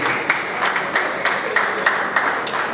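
At a Nigerian Bar Association opening ceremony, an audience claps for a judge in steady rhythmic unison, with sharp, evenly spaced beats over a bed of continuous applause.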